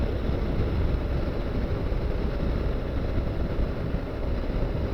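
Honda NC750X motorcycle cruising at about 75 mph near 4,000 RPM, a steady loud rush of engine drone mixed with heavy wind buffeting that holds constant and unbroken throughout.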